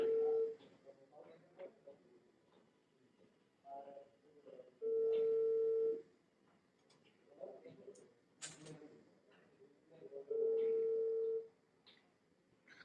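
A telephone call rings out in repeated long steady tones, spaced several seconds apart, with quiet voices and faint background sounds filling the gaps between rings.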